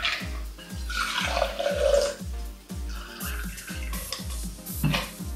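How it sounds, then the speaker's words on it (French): A Manhattan cocktail being strained into a shaker, liquid pouring and trickling steadily with light clinks of ice and glassware, close and moderately quiet, a low rhythmic thumping running underneath. "Je le filtre et je viens le passer dans mon shaker"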